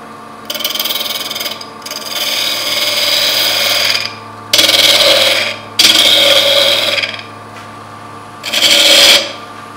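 Quarter inch bowl gouge taking light cuts on a Banksia seed pod spinning on a wood lathe, loud scraping bursts of several seconds each separated by short pauses, close and alone.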